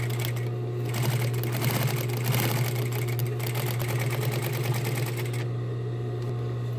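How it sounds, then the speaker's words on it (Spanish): Straight-stitch sewing machine running a seam along a large multipurpose bag, a steady continuous mechanical whir with a low hum, close and even throughout with no talking. "giramos por acá y hacemos una costura al mismo margen por este otro lado en toda la extensión"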